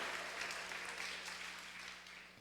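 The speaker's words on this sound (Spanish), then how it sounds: "Dele un aplauso a Dios" A congregation at a church service claps for God, a soft, fairly distant wash of applause that fades slightly toward the end.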